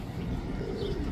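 Pigeons coo softly near a bird trap outdoors, a low continuous murmur of cooing over steady background noise.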